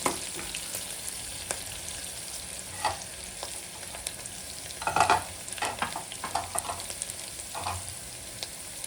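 Onion fries in a pan for a Karnataka-style sabbasige rice dish, a soft continuous sizzle broken by scraping stirs and clinks of the spatula at irregular moments, close and fairly quiet.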